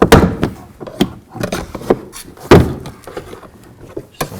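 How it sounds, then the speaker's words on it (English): Plastic push pins snap loose from a car door trim panel on a 2004-08 Infiniti G35, a series of sharp close pops and thunks spaced irregularly. "And just pop. We're going to have push pins all around the door."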